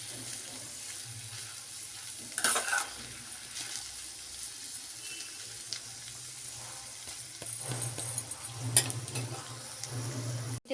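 Water pours into a pan of rice being fried for vegetable pulao, a steady low rush with a couple of brief louder splashes near the start and toward the end.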